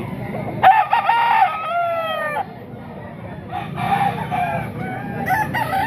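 A rooster crows loudly nearby, a long drawn call that falls off, followed by another crow and clucking from chickens kept for sale amid faint background noise.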